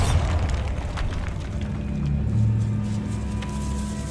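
A Bombarda blasting spell goes off in the Hogwarts Legacy video game, a deep, rumbling boom that opens heavily and then decays into a low, lingering roar.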